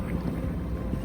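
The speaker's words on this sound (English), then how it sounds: "We are motoring to Vigo" A sailboat motors under engine power through chilly fog off the Galician coast, heading toward Vigo, Spain. The engine gives a steady low rumble, mixed with wind buffeting the microphone, and no one speaks.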